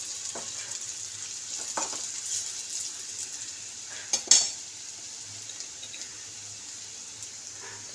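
Onions fry in a pan, a soft steady sizzle with a few sharp clinks of a utensil against the pan, close but fairly quiet.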